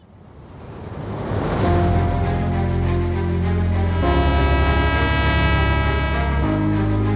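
A train at Khulna railway station rumbles in and sounds a long, loud horn with sustained tones that shift pitch partway, growing from a quieter approach to a close, dominant blast.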